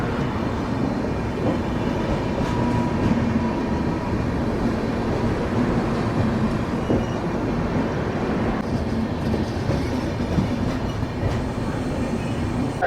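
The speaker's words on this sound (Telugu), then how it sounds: "సో మన ట్రైన్ ముజఫర్పూర్ జంక్షన్ నుంచి అయితే బయలుదేరిపోయింది." Moving train leaving Muzaffarpur Junction, heard from inside: a steady broadband rumble with rhythmic clickety-clack of wheels over rail joints, continuous and fairly quiet, with no talking.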